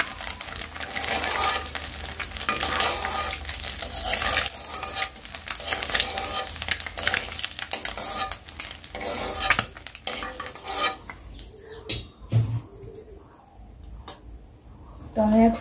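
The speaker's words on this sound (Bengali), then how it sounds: "তো এই যে ডিমটা কিন্তু অনেক লাল লাল করে ভেজে ফেলছি" An egg fries in oil while being stirred in a pan, with a busy sizzle and repeated scraping and clinking of a utensil against the pan, which then quiets. A voice talks over it.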